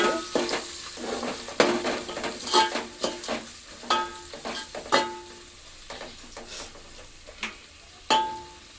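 Mint, turmeric and tempering spices fry in oil for a fish curry (chapala pulusu), sizzling softly under repeated close clinks and scrapes of a spoon stirring against the pan.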